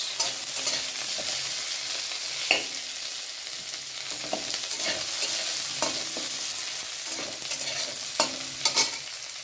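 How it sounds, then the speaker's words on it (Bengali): Potatoes fry in a pan at home, a steady sizzle under repeated stirring and scraping strokes, close and fairly loud, with no talking. "আলু ভাজা হয়ে গেছে"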